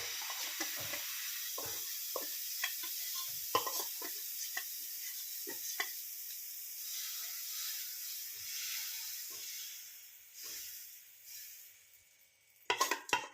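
Dosa batter made with mango juice is spread across a hot pan, giving a steady sizzling hiss with soft scraping stirs and scattered ticks, close by and moderately quiet, with a few louder clatters near the end.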